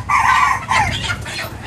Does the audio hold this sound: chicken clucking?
yes